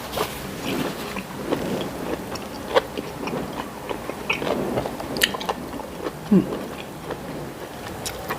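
Close-up chewing and biting while eating rice with a fermented fish chili dip and bitter melon soup: soft, irregular crunches and mouth sounds with occasional sharper bites, and no talking.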